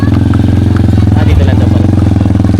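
Motorcycle engines idling and revving steadily up close at a horse race in Lucban, a continuous low rumble with a brief surge midway and crowd murmur faintly underneath.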